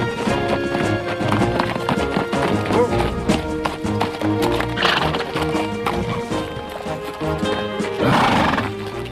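Borrowed horses ridden out from a Western film location in Utah toward a main road: steady clip-clopping hooves with loud, repeated neighs and whinnies, close and continuous throughout.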